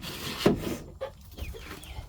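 Chickens on a homestead give a short cluck near the start, then quieter scattered clucks over a soft outdoor background, with no talking.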